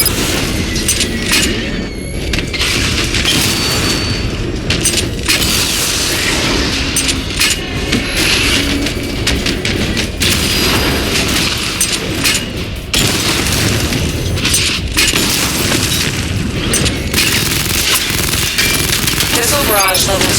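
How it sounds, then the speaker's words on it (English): A missile barrage fires in Batman Arkham Knight, with a dense run of booming blasts and rapid explosive bursts pounding loudly and continuously over a busy background of game noise. "Missile barrage level 2 ready"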